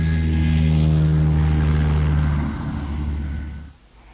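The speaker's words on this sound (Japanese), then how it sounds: "あ、あれは飛行機です。" A propeller airplane drones overhead with a steady, loud, tonal hum that holds for a few seconds, then thins and fades away quickly.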